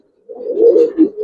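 Old Giribaz pigeons in a home loft give a close, soft cooing call, a steady warbling coo that swells twice near the end, with no voices over it.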